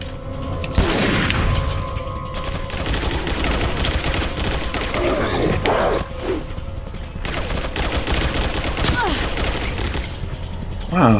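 Gunfire and blasts in Resident Evil 4 during a ship level, a dense, continuous barrage of booming shots and impacts with mechanical clatter, loud throughout, with occasional voices underneath.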